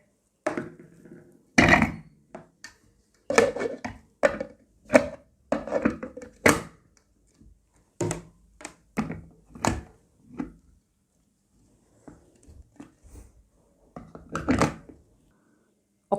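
An electric multipurpose food chopper cuts peeled, seeded fruit, giving close, irregular knocks and clunks in short clusters separated by brief quiet gaps.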